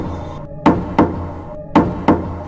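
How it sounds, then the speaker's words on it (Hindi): A door is pounded loudly in four heavy blows, struck in two pairs with short pauses between them, close and booming over a faint low background. "तभी उन्हें जोर से दरवाजा पीटने की आवाज सुनाई देने लगती है"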